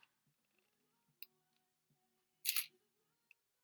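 A single-lens reflex camera with its mirror locked up fires its shutter in one quick, crisp mechanical snap amid faint ticks and small handling clicks in a quiet room.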